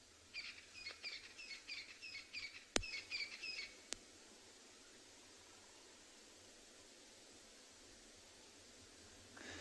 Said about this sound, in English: So as the birds are welcoming everyone